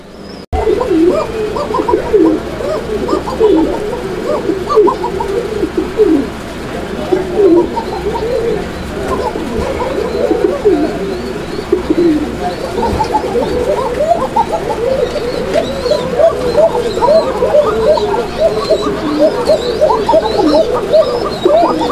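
A female GNS pouter pigeon coos close by among other pigeons, a continuous run of low, throaty, repeating coos with occasional chirps.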